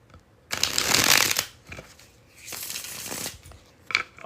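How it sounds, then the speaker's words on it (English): Cards are bridge shuffled up close: a loud riffling burst, a softer second riffle, then a brief snap as the deck settles. "One more bridge shuffle."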